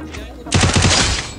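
A rapid burst of gunfire in Free Fire, a quick run of sharp shots fired in succession, loud and close.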